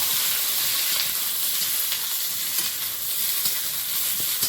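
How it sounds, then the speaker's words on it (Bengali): Okra frying in oil in a wok gives a loud, steady hiss of close sizzling that runs evenly throughout with no talk. "আর এই ধারে এখন ভেন্ডিটা চাপাচ্ছি"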